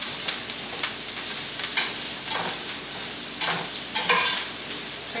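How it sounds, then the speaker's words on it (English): Brussels sprouts crackle and sizzle in a full frying pan as a utensil stirs them, producing loud, close scraping bursts over a constant frying hiss, with no speech. "I'm going to stir it a little bit."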